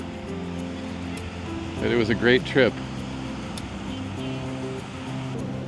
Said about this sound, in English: it is windy and the waves are pretty good size